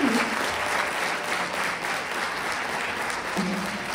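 Steady applause from a concert crowd greeting a classical Indian vocalist at Swaranjali 2025, continuous clapping with a brief voice heard at the start and again near the end.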